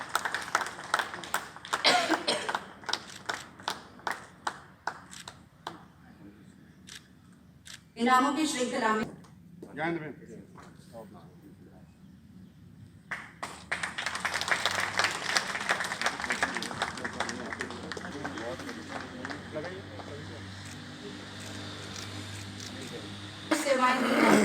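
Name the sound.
audience applause for Anil Thapar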